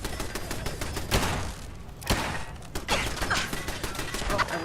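Rapid bursts of automatic gunfire in Fallout 4, aimed at a turret; loud, close volleys with short gaps and heavy thuds, and no talking.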